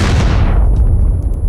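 Grenade explosion in a shooting game, a loud close blast whose broad roar fades into a rumbling low tail.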